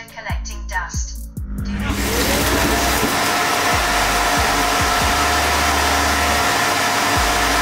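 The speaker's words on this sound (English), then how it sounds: "it heads back to the power base and empties everything from the dust box, and as you can hear, it is quite loud" An EZVIZ RE4 Plus robot vacuum docks at its base, which sucks out the dust box with a loud, steady roaring whoosh that starts abruptly after a few clicks and runs on without pause.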